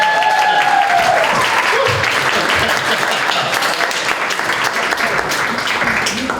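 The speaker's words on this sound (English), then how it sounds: "you gotta follow the applause" A large audience breaks into loud, sustained applause, thick clapping with a faint whistle near the start, continuing evenly for several seconds.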